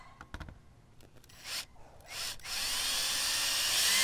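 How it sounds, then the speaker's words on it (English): A 3/16 drill bit bores into a carbon fiber front splitter during a car install: a few short taps, then the close, loud drill whine builds and runs steadily to the end. "I'm using a 3/16 drill bit, and we're going to go right in the center."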